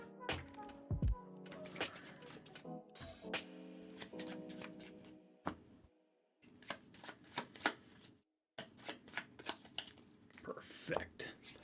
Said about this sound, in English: We'll give these each a shuffle.